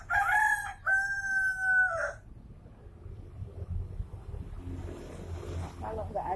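A rooster on a small overgrown woodland plot gives one loud, close crow at the start, then the scene drops to low outdoor background with faint chicken sounds and soft speech near the end.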